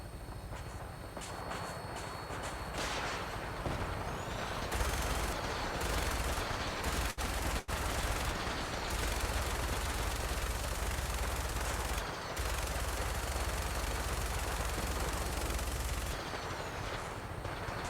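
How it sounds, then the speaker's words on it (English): Heavy sustained gunfire in the video game Fallout 4, dense automatic bursts and rapid shots filling the whole stretch at close range with a few sharp cracks standing out, no talk. "I'm seeing heavy gunfire ahead."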